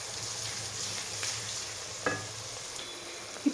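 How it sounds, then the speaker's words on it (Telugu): Ginger garlic paste frying in oil in a pot for Mexican rice, a faint, steady low sizzle with a single light clink partway through. "ఇది కూడా వేసుకొని కొంచెం పచ్చివాసన పోయేంత వరకు వేయించుకోవాలి."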